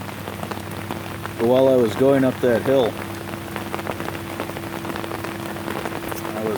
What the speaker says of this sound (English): Rain. Happy to be under my tarp.